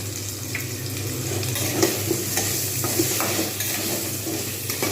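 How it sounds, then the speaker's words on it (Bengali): Potatoes and capsicum fry in a pan after salt goes in for an Indian alur dum, a steady close sizzle with soft scraping stir strokes throughout and no talk. "লবণ দিয়ে একটু ভালো করে ভেজে নেব"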